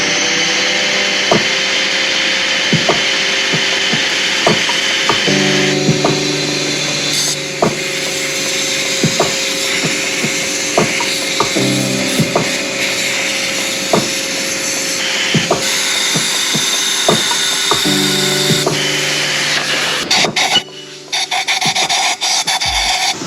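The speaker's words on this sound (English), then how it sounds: "Use a wire brush and get all of these off right here and whatnot." Wire brush scrubbing built-up grime off the edges of a BMW 135i part during a 1M clone build, a continuous loud raspy scraping with steady strokes and brief pauses, close up and without talk.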